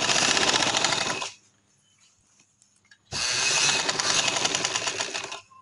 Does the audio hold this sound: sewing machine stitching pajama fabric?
yes